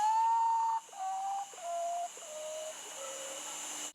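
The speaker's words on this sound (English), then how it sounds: "They're also called poor me ones due to their haunting call." A potoo bird calls alone, a series of mournful whistled notes that step downward in pitch, each held for under a second, clear and fairly near against a steady background hiss.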